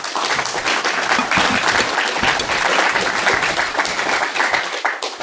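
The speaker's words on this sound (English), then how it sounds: "Let's give another round of applause." An audience at a software conference talk applauds steadily and loudly for about five seconds, a dense sustained clapping with no speech over it.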